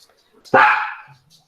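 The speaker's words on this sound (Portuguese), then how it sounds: "O cachorro surtou aqui." One sharp, loud bark from a nearby dog breaks an otherwise quiet indoor room, fading quickly, followed by a faint low murmur.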